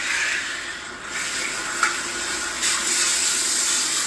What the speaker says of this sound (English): So you want to rinse until that water is running clear.